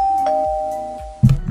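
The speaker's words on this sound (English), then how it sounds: "What's that sound? It's a doorbell." A single electronic doorbell chime sounds, its tone ringing out steadily, followed by a few soft knocks near the end.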